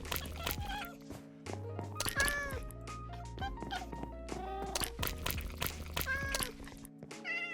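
Minecraft cats being tamed with raw cod let out a quick string of close, high, overlapping meows, some drawn out and some short.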